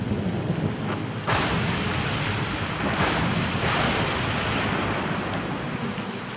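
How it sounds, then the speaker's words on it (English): Thunderstorm from the Battle Realms video game, with steady heavy rain hissing throughout and louder rumbling thunder surges swelling in around the middle, no voices. "Until the storms came and drowned our paradise."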